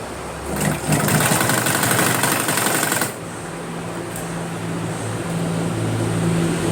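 A sewing machine stitches a folded-in seam on a pattu silk lehenga: a loud, rapid burst of stitching runs for about two and a half seconds, then drops to a quieter steady motor hum.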